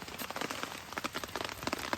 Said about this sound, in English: It's really raining pretty good now.